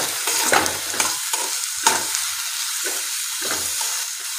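Carrot, capsicum and cabbage stirred in a hot frying pan for a vegetable Manchow soup: a steady close sizzle broken by repeated spatula scrapes and clacks in an uneven rhythm.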